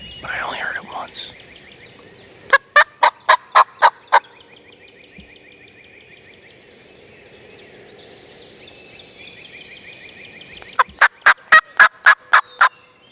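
Two bursts of rapid wild turkey gobbling, each a quick rattling series, separated by soft bird calls and chirps in an open outdoor setting in Ohio in spring.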